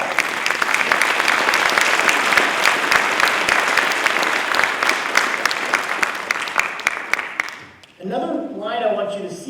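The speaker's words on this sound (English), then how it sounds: "you all deserve a round of applause." A large audience at a spring college convocation breaks into loud, dense applause that continues for about seven seconds before fading out, and a speaker then resumes talking.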